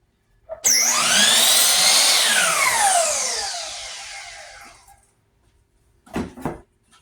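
A power saw cuts a strip of pallet wood. A loud whine starts abruptly and slowly winds down over several seconds, followed by a couple of light knocks.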